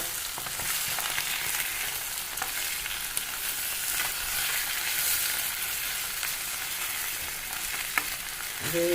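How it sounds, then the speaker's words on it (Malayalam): Fish frying in a pan for a Kerala home lunch, a steady dense sizzle throughout with occasional sharper crackles and a clatter near the end, no talking. "നമ്മൾ മീൻ ഒന്ന് മറിച്ചിടുക"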